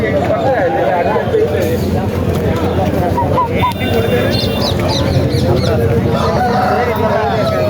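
A rooster crows amid clucking fowl at a Saturday country chicken market in Mamidada, the calls loud and close under busy crowd talk.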